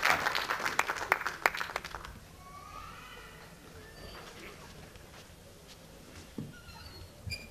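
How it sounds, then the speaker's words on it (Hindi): An audience at a Hindi poetry gathering gives a burst of applause for a young girl poet, the clapping loud at first and fading within two seconds into quiet room noise with faint scattered sounds. "मैं चाहता हूं कि आप सब इस बेटी का जोरदार तालियों का स्वागत करें"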